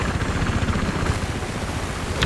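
Helicopter in a video game shooter battle, a steady loud rotor drone with rapid low thudding pulses and broad noise, continuous and close.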